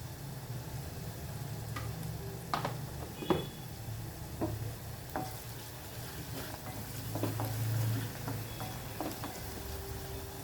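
Ground cumin-fenugreek powder and turmeric sizzle steadily in hot cooking oil, a constant crackling fry under a low hum, with a few scattered ticks and clinks from stirring.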